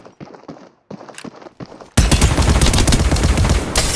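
Rapid automatic gunfire from a weapon in the mobile shooter Apex Legends Mobile, loud and dense, bursting in after a couple of seconds of lighter scattered clicks and thuds.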